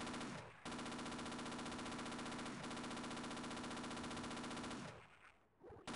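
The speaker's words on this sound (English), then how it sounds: "Just shoot in the direction of the glowing spheres, and you'll be good." Sustained rapid automatic gunfire in the video game Half-Life, a dense continuous burst with a brief break, then fading out at the end.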